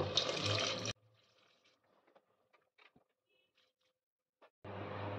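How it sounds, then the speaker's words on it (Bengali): Hot water poured into a pot of mutton, a rushing pour at the start and again briefly at the end, with a near-silent stretch of faint clinks in between. "এবারে আমি দিয়ে দিচ্ছি গরম জল। মাংসটা ডোবার মতো আমি জল দিয়ে দেবো।"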